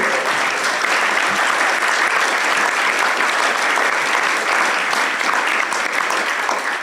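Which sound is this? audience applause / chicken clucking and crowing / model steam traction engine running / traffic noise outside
audience applause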